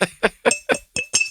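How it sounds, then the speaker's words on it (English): A bottle top clinking against glass at a London liquor distillery, six bright, ringing taps in quick succession, close and loud, with no talking. "That's the sound of the top on the glass."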